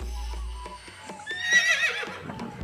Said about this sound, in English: Horses make a sound called neigh.